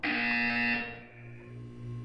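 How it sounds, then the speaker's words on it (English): A loud, steady electronic buzzer from the Portal 2 video game sounds alone for most of a second, then fades into a quieter lingering hum. "When you hear the buzzer, look down at the floor."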